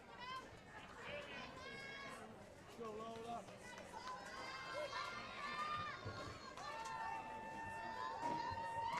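A crowd at a 2-1A state softball third-place game cheers and shouts in a sustained, lively din, with many overlapping voices rising slightly toward the end.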